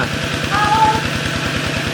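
Tractor engine working a wet, sticky rice paddy, a steady near chug with a regular low pulsing throb running continuously throughout.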